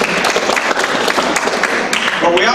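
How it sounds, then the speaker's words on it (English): Crowd applause at a California governor candidate's campaign speech, brisk close clapping filling a short stretch, with a voice faintly starting up near the end. "You can clap."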